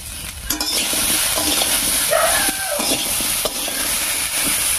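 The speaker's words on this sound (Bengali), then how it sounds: "লবণ হলুদ দিয়ে একটু নাড়িয়ে নিয়েছি" Star fruit pickle with salt and turmeric being stirred in a pan, a steady close sizzle with scraping of a spatula across the pan throughout.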